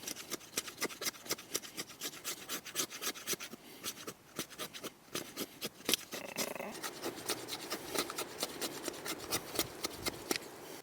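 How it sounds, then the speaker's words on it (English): A knife shaves wood down into tinder at a campsite in Guadalupe State Park, Texas, giving rapid rhythmic scraping strokes, close and steady, with no talk. "But let me get busy shaving some of this down a bit,"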